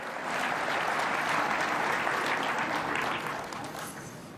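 At an NBA Legends awards event, a large audience applauds in a dense, steady wash of clapping that swells and then tapers off near the end.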